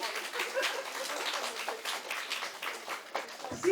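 An audience applauds a ballroom dancer with steady, fairly quiet clapping that runs for several seconds, a dense patter of many hands with no voices standing out.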